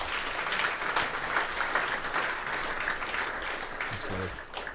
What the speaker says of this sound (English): good job getting them to clap